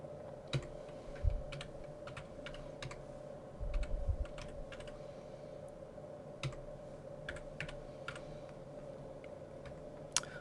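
Keystrokes on a computer keyboard tap out short, irregular clicks and small bursts over a steady low hum, with no talking.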